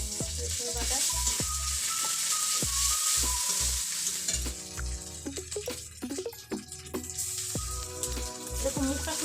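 Garlic paste sizzles steadily in a hot pan while a spoon stirs and scrapes in a rhythmic series of close knocks, with frying hiss continuing underneath.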